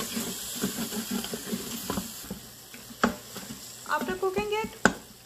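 Spices and yogurt sizzle and get stirred in an Instant Pot for a paya trotter curry, with cloves and cardamom in the mix: soft scraping strokes and faint sizzling, ending in a few close clicks and scrapes.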